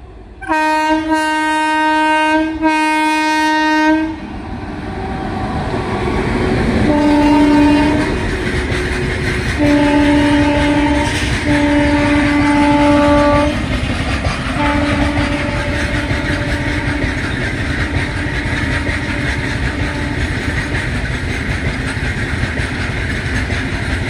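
A train sounds a loud multi-tone horn in a few long and short blasts while its wagons rumble and clatter past close by, the steady roar of the passing train continuing throughout.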